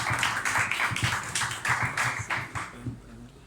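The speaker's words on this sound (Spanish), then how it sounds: "Un aplauso, por favor." A small audience at a Borges commemoration gathering in Panama applauds, with moderately loud, rhythmic clapping that is fairly close, continuing for a few seconds before tapering off.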